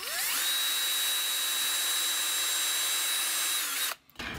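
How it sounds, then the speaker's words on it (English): A small power drill whines at high pitch as it bores into the plastic of a Tandy joystick, running steadily for several seconds before stopping abruptly. "I'm going to try to drill this one out. I'm going to start with a small drill bit."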